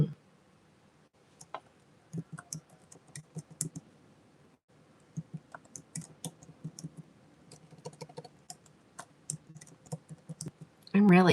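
Someone types on a computer keyboard nearby, making irregular bursts of light clicks separated by short pauses, followed by a louder burst of noise at the very end.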